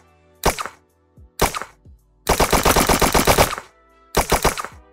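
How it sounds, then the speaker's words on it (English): Video game gunfire in a multiplayer PVP shooter: four loud bursts of rapid automatic shots, short volleys followed by a longer sustained burst and a final volley, with clear gaps of silence between them. "you can hear them shooting from a distance"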